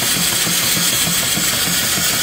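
Steam engine running at about 200 RPM and driving an alternator through a V-belt from a 16-inch pulley, giving a loud, steady mechanical chugging with a rhythmic low pulse and a continuous hiss.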